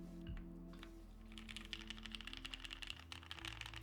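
Rapid clicking keystrokes from a mechanical keyboard with Cherry black switches and a PC plate, close and quiet, in a fast continuous run of typing.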